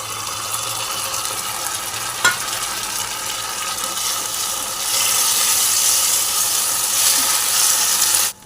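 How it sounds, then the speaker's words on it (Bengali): Ginger garlic paste frying with onion and tomato in a pan for an egg, potato and cauliflower curry, a steady close sizzle with stirring scrapes and one sharp clink, growing louder and brighter partway through. "আদা রসুনের পেস্ট দিয়ে মশলাটা কষানো হয়ে গেছে।"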